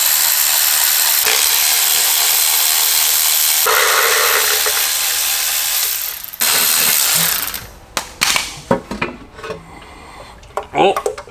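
Power tool, apparently an impact wrench or ratchet, backing out oil pan bolts on a BMW M52 engine: a long continuous mechanical whir up close, then it stops and short clanks and handling noises follow.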